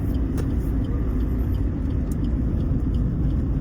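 A car engine rumbles steadily from inside the vehicle as it pulls over to the roadside, a continuous low drone with road noise and no talk.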